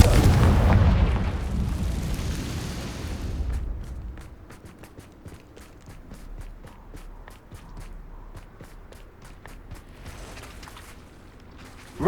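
Confringo fire spell explosions in Hogwarts Legacy boom loudly in the first few seconds, then give way to a quieter stretch of rapid footsteps with faint rumbling.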